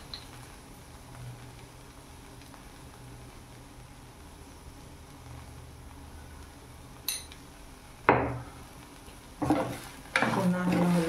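Okra bhaji frying in a pan, a faint low sizzle running steadily before a few spoon scrapes and knocks against the pan toward the end as it is stirred.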